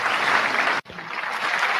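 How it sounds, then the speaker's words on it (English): Applause sound effect in a year-in-review podcast episode: dense, steady clapping that cuts out abruptly partway through, then resumes more faintly. "You got some applause."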